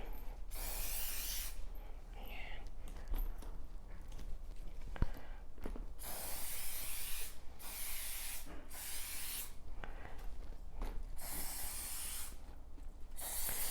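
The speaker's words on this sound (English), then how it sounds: "I'm just trying to get an even, fine coating all over the bag" Carbon protector aerosol spray applied to a Louis Vuitton pastel bag in repeated short bursts, each a sharp close hiss of a second or two, separated by pauses with light rustling and handling.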